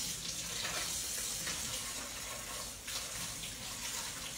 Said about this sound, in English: Can you turn the water down?